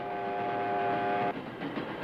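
A World War II-era train bound for the Sachsenhausen concentration camp rolls steadily along its rails with a continuous rumbling roar, layered with a sustained whistle-like tone that cuts off partway through, close and loud.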